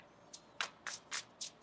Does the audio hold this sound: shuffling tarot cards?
yes